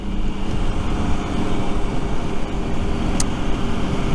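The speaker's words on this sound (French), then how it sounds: "il y a un peu de vent quand même, ça souffle" Steady wind buffets and rumbles across the microphone, a continuous low roar with no voices.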